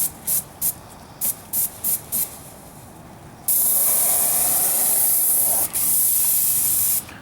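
A few short mechanical clicks, then a loud continuous spray hiss of ceramic coating being sprayed onto siding that cuts off briefly and resumes.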